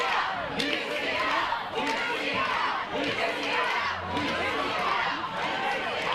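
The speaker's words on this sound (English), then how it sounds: "Got a chant going in the crowd." A crowd chants loudly at a university rugby varsity match in London, a dense rhythmic mass of voices rising and falling in waves throughout.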